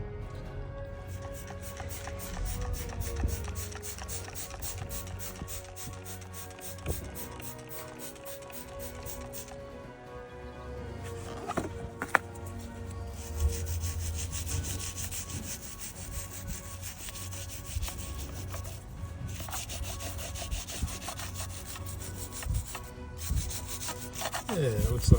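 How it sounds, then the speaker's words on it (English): Someone scrubs caked, decades-old dirt off the carburetor of a 1975 Ford E100 van on the ground of a parking lot, producing continuous close rubbing and brushing strokes with scattered scrapes and small knocks. "basically do a quick clean of the carburetor down here on the ground"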